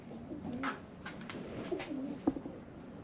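A pigeon coos softly several times nearby outdoors, low gurgling calls in a quiet setting.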